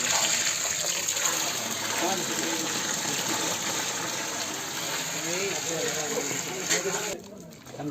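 Water gushes and splashes steadily into a large cooking pot, five to six buckets' worth, loud and close, with voices talking over it and a short pause near the end, at an outdoor village festival cooking mutton for 300 people.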